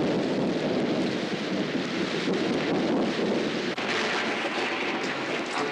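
Heavy rain pours in a constant, dense roar during a thunderstorm, with low rumbling and gusty wind beneath and no voices.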